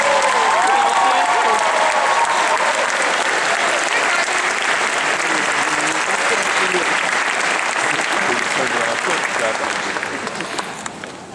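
Graduation-ceremony audience applauding parents and guardians, a large crowd's sustained clapping that fills the space at full strength before starting to fade near the end.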